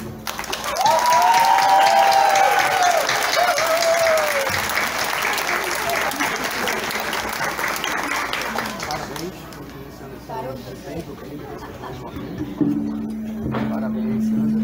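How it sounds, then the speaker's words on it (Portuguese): Wedding guests at a ceremony break into loud applause and cheering for the couple's first kiss, sustained clapping that gradually thins out, with a voice calling out near the end. "todo mundo vai aplaudir com muita alegria, com muito barulho, muita festa."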